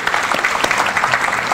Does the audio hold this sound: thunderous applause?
yes